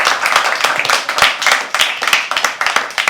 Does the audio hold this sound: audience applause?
yes